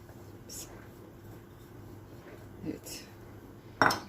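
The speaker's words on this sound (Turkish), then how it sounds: "Kekiklerimi de böyle içine iyice yediriyorum" A spoon stirs thyme into a breakfast mixture in a dish, making a few scattered scrapes and light clinks, the loudest sharp knock coming near the end amid quiet stretches.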